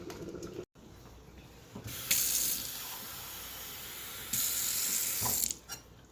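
Cold water runs from a kitchen tap while cornmeal porridge is being prepared, a soft trickle stepping up into two louder gushing bursts of flow, close by and without talk.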